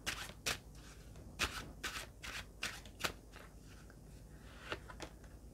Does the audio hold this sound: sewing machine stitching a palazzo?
no